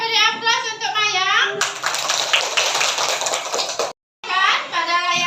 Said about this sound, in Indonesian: ayo beri aplaus untuk Maya